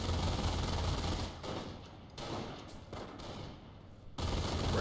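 MG42 machine gun fire in a World War II strategy game comes in several sustained bursts of rapid shots with short gaps between them, loud and continuous, with no speech.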